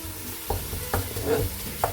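Bacon frying in a pan with no added oil, cooking in its own fat, giving a low steady sizzle with a few sharp stirring scrapes and clacks close up.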